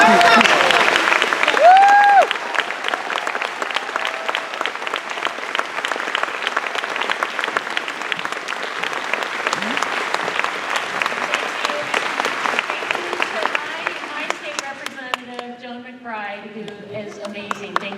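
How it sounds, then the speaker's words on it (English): A town hall crowd in Redmond gives a big, sustained round of applause, loud and dense throughout, with a voice briefly audible near the start and talk emerging as the clapping thins at the end. "we're going to give a big round of applause,"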